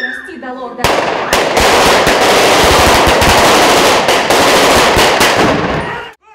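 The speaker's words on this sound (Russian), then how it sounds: "ты по-настоящему глохнешь от выстрелов" Loud, dense automatic gunfire rattles continuously for several seconds after a short lead-in during a security forces training exercise, close and overwhelming, with sharp cracks throughout.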